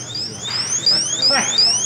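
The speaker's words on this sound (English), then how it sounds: "oh, he set the alarm off." A store alarm at a Lowe's sounds loudly and close, repeated rising electronic sweeps in a steady rhythm, with faint voices underneath.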